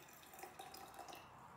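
Water poured from a tap onto soaked oats and chia seeds, a faint, steady trickle and splash lasting a moment with no one speaking.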